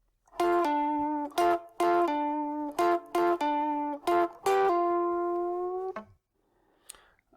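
Electric guitar plays the solo section of a song, a run of clear sustained notes with slight bends, each note picked distinctly and ringing, ending in silence with no voice.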